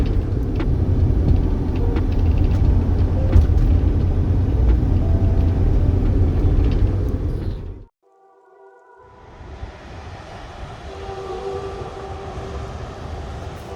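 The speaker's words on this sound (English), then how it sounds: "Here we are driving between a couple of lakes on the way to Cactus" A car drives along a road between lakes in Australia, giving a steady loud rumble of engine and tyre noise that cuts out abruptly, then returns at a lower, quieter level.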